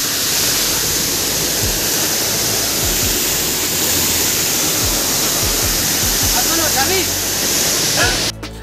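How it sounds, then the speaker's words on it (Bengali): Bamni Falls in the Ajodhya Hills, water tumbling down the rocky hillside in a loud, continuous roar that fills the whole stretch, heard close up. "পাহাড়ের উপর থেকে জল গড়িয়ে যাচ্ছে"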